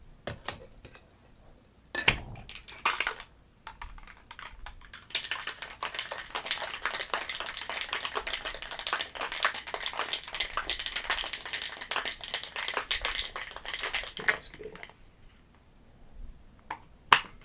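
A bottle of cranberry cocktail shaken hard for about nine seconds, a dense, steady rattling slosh with a few sharp knocks just before it starts.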